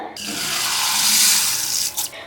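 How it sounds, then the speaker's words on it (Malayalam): Milk poured into a bowl while making twisted donut dough, a steady close-up splashing gush lasting about two seconds with no talking. "ഞാൻ ഈ പാല് ബൗളിലേക്ക് ഒഴിച്ചു കൊടുക്കുകയാണ്."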